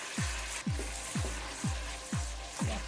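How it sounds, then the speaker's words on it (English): Jollof rice fries in a pan while being stirred, soft sizzling under regular scraping strokes, about six evenly spaced low thumps from the spoon sweeping through, quiet and close with no talking. "we are frying it and we are just mixing it up so it doesn't get burnt"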